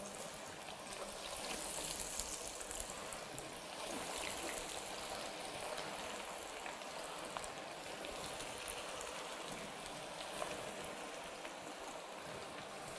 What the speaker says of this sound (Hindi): तो सबसे पहले हमने इस तरह से एक एक पीस करके इसको फ्राई के लिए लेके जाएंगे हम अपने कढ़ाई के अंदर